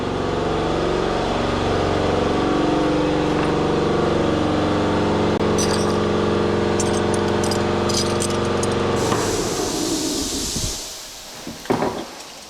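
An air compressor runs steadily in a home garage with a loud, constant motor drone for about nine seconds, then shuts off, leaving quieter clatter and a few knocks.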